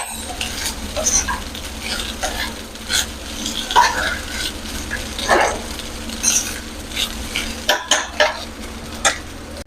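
Chicken pieces sizzle and fry in a pan with golden-brown garlic as a utensil stirs and scrapes against the metal, a loud, close, continuous crackle punctuated by clinks and knocks.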